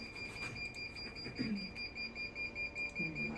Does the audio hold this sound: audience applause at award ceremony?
no